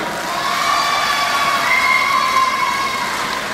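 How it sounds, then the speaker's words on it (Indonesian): A crowd cheers and applauds at the closing of a cooperative annual meeting in NTT, Indonesia, producing a steady, dense wash of noise that holds at an even level throughout. "Sekali lagi tepuk tangan buat kita semua."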